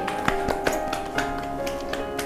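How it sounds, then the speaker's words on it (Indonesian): A few people clapping in a loose, uneven rhythm, each clap sharp and close, over a steady tonal hum in the background. "Tepuk tangan buat kita."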